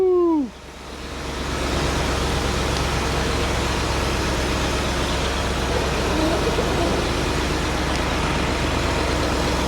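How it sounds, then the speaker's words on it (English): A 1966 Ford Thunderbird engine idles slightly high, a steady continuous rumble that holds close and even after a brief squeal and dip at the start. "Can't believe how good it sounds, huh? Sounds like it's idling a little high though."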